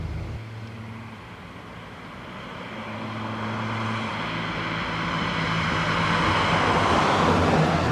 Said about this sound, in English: it's loud, isn't it? I mean, that exhaust, is it like almost straight through?